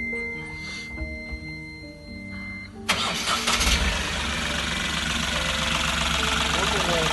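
An Ashok Leyland Bada Dost truck diesel engine cranks briefly and catches, then settles into a steady running idle with no injector noise that continues to the end.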